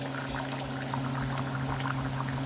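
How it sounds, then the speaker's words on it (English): Orange juice poured from a cup into a pot of pork carnitas mixture, a steady close splashing pour over a constant low electrical hum. "Now I'm going to go a cup and a half of it or so and just put it in there."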